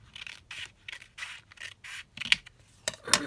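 Scissors trim down paper ephemera in a series of close, crisp snipping strokes, about eight regular cuts followed by a few sharper clicks and rustles of handled paper at the end.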